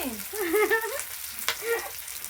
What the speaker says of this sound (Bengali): আবারও নাড়াচাড়া করে মশলাটা খুব ভালো করে ফ্রাই করে নেবে